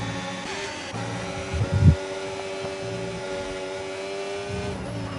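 Several race cars in Project Gotham Racing battle for position at the Abu Dhabi circuit, engines droning steadily with a brief louder surge as one pulls alongside, no voices over the continuous motor whine.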